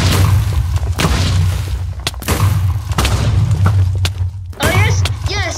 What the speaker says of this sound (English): Yes, I exploded him.